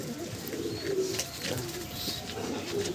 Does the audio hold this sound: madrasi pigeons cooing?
yes